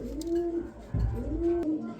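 A male Argent Modena pigeon coos twice at close range, each a rising-and-falling throaty call, with a soft thump between them and no other sound competing.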